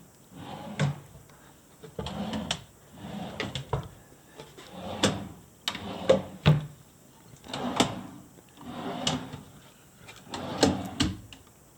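Drawers of a six-drawer chest in a hotel room slide open and shut again and again, a steady run of wooden rattles and knocks close to the mic with no voices.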